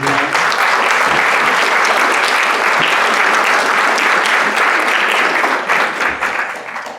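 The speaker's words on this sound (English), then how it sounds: "please stand if you're here and get another round of applause to join Brad." Sustained applause from a meeting audience at a Rotary club luncheon welcoming new members, loud and dense throughout, easing slightly near the end.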